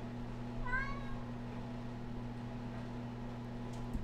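A cat gives a single short meow, faint and a little distant, over a steady electrical hum and background noise, with no other clear sounds following.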